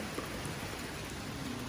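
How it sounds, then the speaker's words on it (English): Rain pours down steadily outdoors near a grill and smoker during a thunderstorm. It makes a dense, close hiss of drops hitting surfaces, with no thunder clap standing out. "it's lightning and raining."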